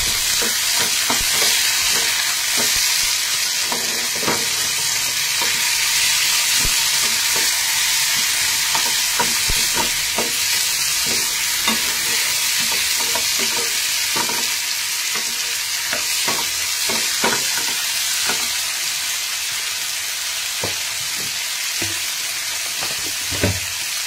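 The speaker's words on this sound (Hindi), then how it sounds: "यहाँ पे जो मैंने रफली चॉप किए हुए टमाटर हैं वो डाल रही हूँ।" Roughly chopped tomatoes added to nearly cooked onions in a hot pan, frying with a steady loud sizzle throughout and repeated scraping clicks of stirring, no voices.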